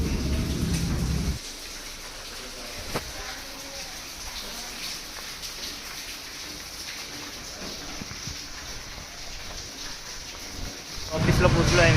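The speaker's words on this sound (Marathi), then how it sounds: "खूप पाऊस चालू आहे गाईस" Heavy rain pours down in steady, dense patter, swelling louder at the very start and end, while a person talks over it.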